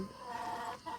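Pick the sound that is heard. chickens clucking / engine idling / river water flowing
chickens clucking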